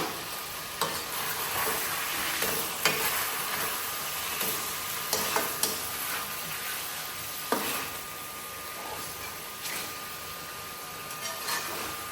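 Pangas river fish curry with eggplant being sautéed in a pan, a constant close sizzle with scattered sharp scrapes and taps of a spatula stirring.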